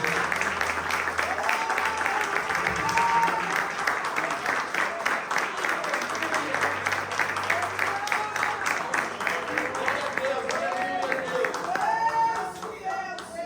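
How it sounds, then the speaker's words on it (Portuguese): A church congregation claps rhythmically during worship, with steady hand claps carrying through the whole stretch, scattered voices under them and a few louder shouts near the end. "Você pode dar uma salva de palmas para o Senhor"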